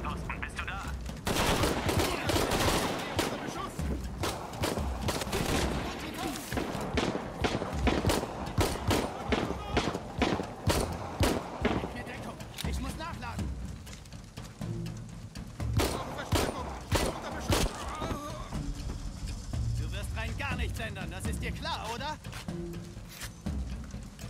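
Rapid bursts of gunfire in Shadow of the Tomb Raider crackle repeatedly, loud volleys and shots with speech mixed in between.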